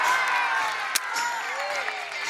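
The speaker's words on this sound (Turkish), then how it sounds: "Futbolcularımıza güzel bir alkış gelsin." Applause for football players at a sports event: dense, steady clapping from a crowd that fills the whole moment, with a few sharper claps and some faint voices mixed in.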